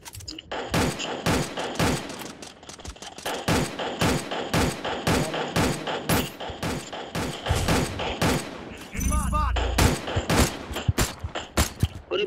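Rapid bursts of automatic gunfire from the Garena Free Fire battle royale game crackle steadily throughout, with a brief heavier rumbling effect near the end before the shooting resumes.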